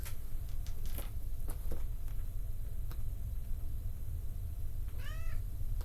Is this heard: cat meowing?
yes